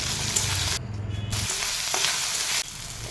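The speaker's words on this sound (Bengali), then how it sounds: "মশলাগুলো একটু ভাজা ভাজা হয়ে এলেই তারপরে আমি এই ছোলা ডালটা তুলে দেব" Whole cumin, bay leaf, green chilli and tomato sizzle steadily in hot oil in a pan, a close, continuous frying hiss with brief stirring gaps and no voices.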